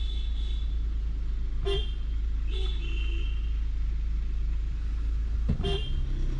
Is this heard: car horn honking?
yes